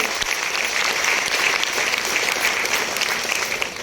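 Enthusiastic applause from an audience at a stage event honoring a student's success, a dense, even burst of clapping that stays full throughout without any talk.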